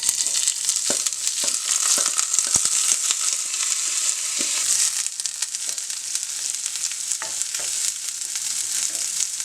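Rice fries in hot oil in a frying pan, making a bright continuous sizzle close up, broken by occasional scrapes and clicks from stirring.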